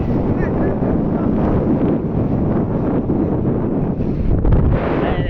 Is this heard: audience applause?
no